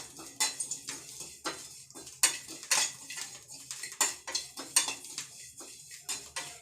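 Dried chillies and cumin are dry-roasted in a pan, with a spoon scraping and clinking against the metal in a steady, repeated stirring rhythm, close and fairly quiet.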